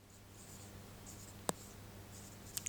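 Marker or chalk writing on a board during a Hindi-language English grammar lesson, faint scratchy strokes with a couple of sharp taps, close but quiet, with no talking.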